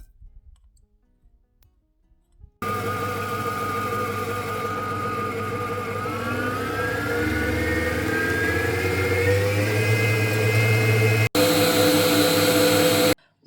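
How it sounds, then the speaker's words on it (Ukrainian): After a quiet start, a stand mixer motor whirs loudly and steadily as it beats soft room-temperature butter with a cooled custard base, its pitch rising gradually before a brief cut and a return. "В чашу міксера я вже поклала 200 г м'якого кімнатної температури масла і буду додати заварну основу, яка вже охолола. Буду збивати разом."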